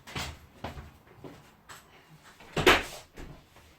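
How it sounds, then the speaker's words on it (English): A door is pushed shut indoors. Faint shuffling and light knocks come first, then one sharp bang near the middle and a softer thud just after, with no talking. "I'm just going to shut the door because I'm cold."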